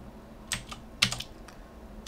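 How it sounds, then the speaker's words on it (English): A computer keyboard key is pressed twice in quick succession, with sharp close clicks roughly half a second apart and a faint tap after them, over a quiet room hiss. "Now click P on your keyboard."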